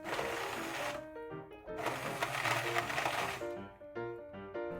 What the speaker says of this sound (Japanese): またハンドミキサーで粉砕します。